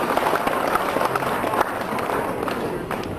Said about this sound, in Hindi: तालियां आप बजाते रहें, नारे लगाते रहें।